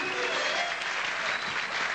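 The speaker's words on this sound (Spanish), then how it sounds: "Un aplauso para ellos dos." A studio audience claps on a 1995 Salvadoran weekend television show, a dense, even burst of applause that fills the whole short moment.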